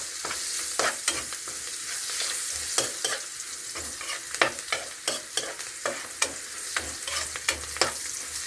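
Anchovies and onion frying in a generous amount of oil, a steady sizzle broken by repeated sharp scrapes and stirring clatters at an irregular rhythm, close and loud, with no voices.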